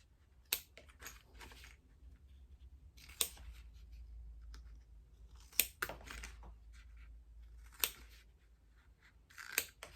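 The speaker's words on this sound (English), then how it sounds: "I'm going to go ahead and cut" Scissors snip through fabric for a sewing-project pencil pouch, in short crisp bursts of two or three cuts repeated about every two seconds, close and fairly quiet over a low room hum.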